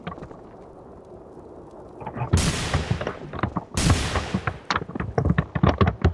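Gunfire in a first-person shooter video game: after a stretch of background game sound, two loud sharp bursts of shots ring out, followed by a rapid string of closer single shots with no talk over them.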